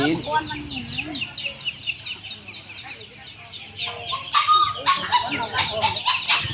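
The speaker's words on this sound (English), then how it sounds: "stalls selling chickens, ducks, dogs, and cats are packed closely together" Chickens cluck and squawk repeatedly at a crowded live animal market stall where chickens, ducks, dogs and cats are sold, with people talking nearby throughout.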